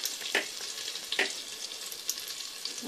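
Chopped ginger frying in butter in a pan gives a steady, close sizzle with a few sharper pops and crackles scattered through it.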